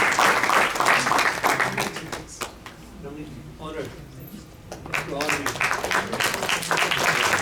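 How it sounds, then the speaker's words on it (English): Crowd applause at a community talent event swells loudly, fades to a quieter stretch with voices speaking, then rises again into sustained clapping. "The applause should not stop,"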